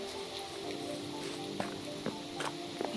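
Minecraft rain falling as an even, faint patter and hiss over a low steady drone, with a handful of light ticks scattered through it.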